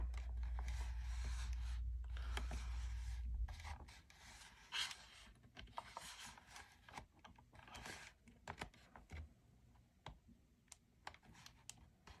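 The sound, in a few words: prying open a Steam Deck case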